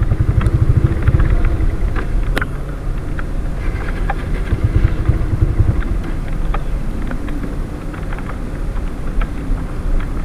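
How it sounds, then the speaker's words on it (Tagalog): A motorcycle engine sputters and labors continuously, rough and uneven, failing to accelerate as fuel won't ignite properly, with wind buffeting the microphone throughout; the revving falters as it stalls. "Parang nalulunod yung motor ko. Ayaw mag-accelerate."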